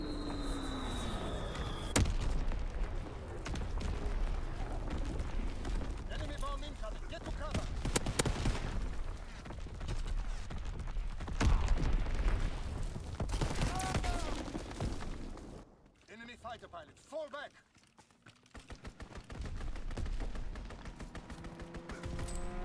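Enemy artillery and gunfire in an online shooter match, dense continuous shots and impacts with sharp bangs, dropping briefly to near quiet before resuming, while voices talk over the action.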